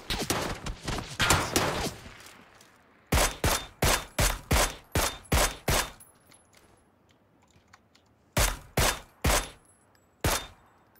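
PUBG squad-match gunfire: a dense burst of rapid shots, then two clear volleys of sharp evenly spaced single shots separated by quiet gaps, loud and close, with no voices.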